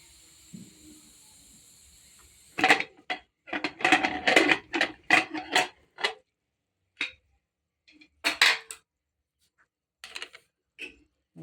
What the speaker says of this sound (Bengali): এবার আমি প্রেশার কুকারটা খুলে দেখব ভাপা খিচুড়ির অবস্থাটা কী